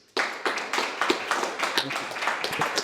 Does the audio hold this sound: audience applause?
yes